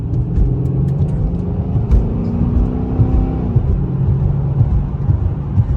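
A 2007 Chrysler 300C SRT8 engine running loud and steady, with a rising harmonic whine through the middle as it builds revs, then settling back to a deep rumble; no talking.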